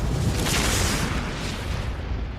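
A massive asteroid explosion sound effect on the scale of hundreds of megatons, a sustained loud broadband roar and rumble that stays full throughout, with no voices.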